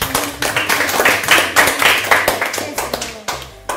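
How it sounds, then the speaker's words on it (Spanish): Children's applause at a Spanish children's club show, rendered as a run of quick, uneven hand claps that start and stop in bursts for about four seconds. "Muchas gracias por este aplauso caluroso y que os sale del alma y del corazón espontáneamente."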